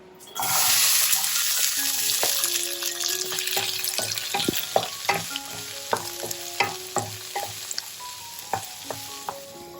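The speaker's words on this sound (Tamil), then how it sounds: "இப்ப கட் பண்ணி வச்சிருந்த மற்ற வெஜிடபிள்ஸையும் வதக்கிக்க போறேன்." Chopped vegetables hit hot olive oil in a pan with a sudden loud sizzle, then keep frying steadily while a spoon stirs and scrapes with repeated clinks and knocks, close up and without talk.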